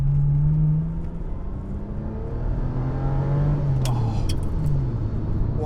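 A Ferrari 550 V12 engine pulls hard, its loud rising drone climbing through the revs, easing briefly, then building again from inside the car, with a brief spoken exclamation.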